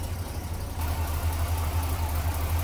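A 1968 Cadillac DeVille convertible's 472 V8 idles with a steady low rumble, close and even, stepping up slightly in level partway through, with no voices.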